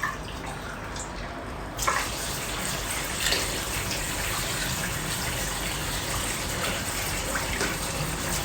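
Water pours steadily from a cup into a pot of basmati rice, a continuous splashing gush that starts abruptly after a moment of near silence and keeps running.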